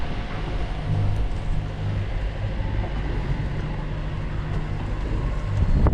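Strong, near hurricane-force wind while sailing, a steady heavy roar of air and water rush that fills the whole stretch and swells slightly toward the end, with no voices.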